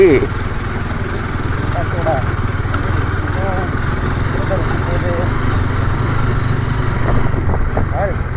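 Vehicle engine running steadily while driving on a rough off-road track, a continuous loud mid-pitched drone throughout, with people talking over it.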